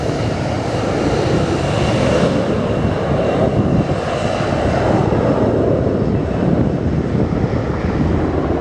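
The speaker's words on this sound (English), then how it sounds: "oh, there goes the plane taking off." A plane taking off near Montego Bay gives a steady, loud roar of jet engines that holds broadly and evenly throughout, with no talk.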